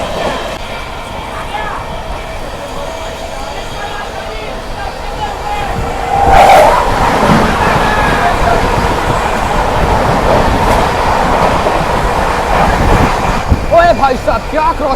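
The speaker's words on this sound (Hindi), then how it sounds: "और सामने से कोई ट्रेन आ रही है।" An express train running at about 125 km/h near Mirzapur is passed by the oncoming Patna Rajdhani. Steady rail rumble and clatter swell into a sudden loud, roaring rush as the other train sweeps by close alongside, then stay loud to the end.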